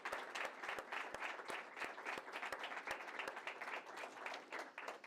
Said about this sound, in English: If you could please stand up and be recognized for everybody to give a round of applause